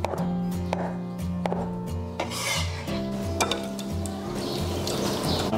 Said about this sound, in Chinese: 我们给它切片，等下煎一煎铺底。